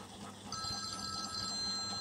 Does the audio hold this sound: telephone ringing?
yes